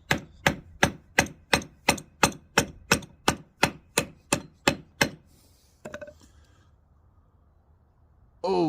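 Sharp metallic whacks as a baton stick hammers the spine of a Skyraider Banshee knife blade, struck in a steady rapid rhythm, about sixteen blows, close and loud, then stop, followed by a few faint clinks and quiet.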